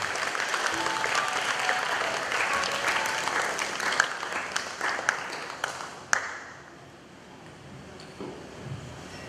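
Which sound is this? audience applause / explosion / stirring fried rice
audience applause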